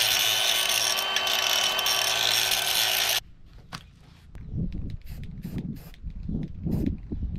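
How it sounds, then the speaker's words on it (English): An angle grinder works on the metal of a farm rake in a fabrication shop, a loud continuous whine for about three seconds that cuts off into irregular scraping and knocking sounds, close by with no talking. "we need just a bit of grinding"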